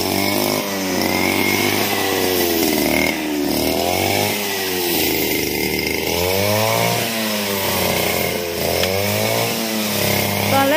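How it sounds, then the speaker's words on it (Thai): A loud, continuous motor drone with rising and falling revs throughout, close up, like a grass trimmer working steadily without pause. "ป้าพามาดูน้องปอมตัดหญ้านะคะ"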